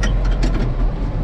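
A tractor engine runs steadily during spring tillage in a snowy field, a loud continuous low rumble heard from inside the cab with no talk over it.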